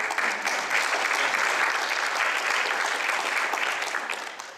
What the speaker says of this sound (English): Warm applause for